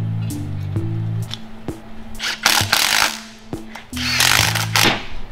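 A power tool bolts axle hubs and a glued-on diff cover onto beefier axles for a rat rod wrecker truck. Loud whirring bursts with steady mechanical tones come in short runs, mixed with clanks and hiss, and no talking.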